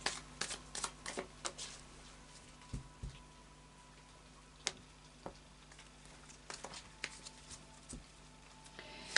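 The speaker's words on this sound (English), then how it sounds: "final shuffle of the Tarot of Dreams" Tarot of Dreams cards are shuffled by hand in a quiet room, soft irregular riffles and taps, close and fairly faint, with scattered sharper card snaps.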